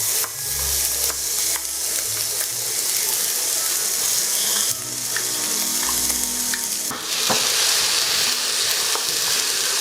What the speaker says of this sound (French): On va faire frire un peu les tomates au centre ici.